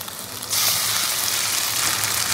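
Ground spice paste drops into onions frying in a pan, a sudden burst of sizzling that jumps louder midway and stays as a bright, steady hiss, close up.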